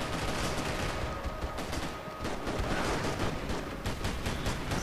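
Dense, continuous video game gunfire in Max Payne 3 multiplayer, rapid overlapping shots and bursts at moderate loudness with no pauses.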